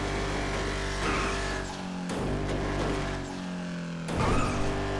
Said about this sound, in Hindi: चली चली चली अपनी इनोवा क्रिस्टा चली